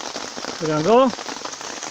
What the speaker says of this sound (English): soon after this rain thinned down a little bit